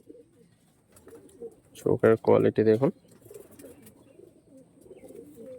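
Pigeons coo at a sale of flying pigeons, including a white breeder female, in a short burst of throaty, rolling coos in the middle. Someone talks before and after it.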